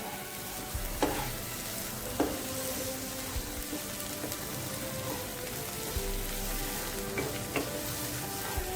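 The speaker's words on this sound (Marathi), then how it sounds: "त्याला अजून थोडा वेळ आपल्याला भाजून घ्यायचा आहे" Sweet potato shira, a sweet semolina-style dish, being roasted and stirred in a pan, with a steady soft sizzle and occasional scraping stir strokes, close and moderately loud, with no talk.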